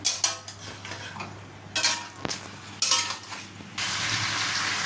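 A fish head sautés in a pan for muri ghonto, with bursts of loud close sizzling broken by spoon scrapes and clanks against the pan, ending in a steady fry hiss, and no talking.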